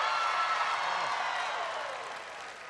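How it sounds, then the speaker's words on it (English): A large audience at a town hall event applauds and cheers for a young girl named Shay, a dense, steady wash of clapping that gradually fades toward the end. "Can everybody give Shay a big round of applause?"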